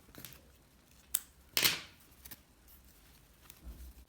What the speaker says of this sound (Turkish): Bir zincir çekip ipi kesiyorum.